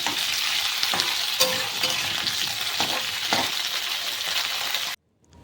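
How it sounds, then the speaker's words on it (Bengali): Cauliflower and potato frying in a pan: a dense close sizzle with scattered clicks of stirring, then cutting off abruptly near the end. "ফুলকপি আর আলুটাকে আমি ভালো করে ভেজে নেব"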